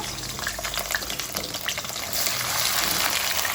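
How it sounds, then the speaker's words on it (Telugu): Green chilli and onion pieces frying in hot oil for an egg and drumstick curry, giving a steady, dense sizzle that holds close and even throughout, with no voices. "ఫస్ట్ అయితే ఆయిల్ పోసి ఆయిల్ ఇటెక్కిన తర్వాత పచ్చిమిర్చి ముక్కలు ఆనియన్ ముక్కలు ఇవన్నీ వేసేస్తాను"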